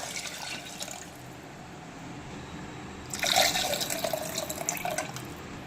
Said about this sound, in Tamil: 1 கப் புழுங்கல் அரிசிக்கு 2 கப் தண்ணி சேர்த்துக்கலாம்.